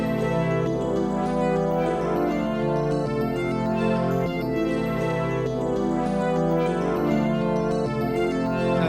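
Korg synth chords layered with harmonized melody notes from the OXI One harmonizer, heard as a steady, dense pad with a line of shorter notes moving on top throughout.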